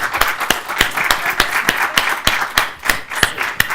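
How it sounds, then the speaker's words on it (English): A small group gives a round of applause to welcome a new recreation supervisor for aquatics. Close, loud individual claps with a sparse, uneven rhythm run throughout. "Please, everyone, a round of applause."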